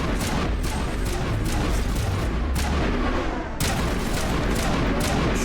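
Sustained combat fire in Mass Effect Legendary Edition: loud, rapid weapon discharges with heavy booming blasts, near and continuous, with a brief dip before the barrage resumes.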